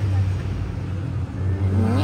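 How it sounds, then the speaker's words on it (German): A motorcycle engine drones steadily with a deep, reverberant hum, rumbling through an enclosed tunnel in Mallorca, its pitch rising slightly near the end. "So ein Motorrad hört sich natürlich geisteskrank an bei so einem Tunnel."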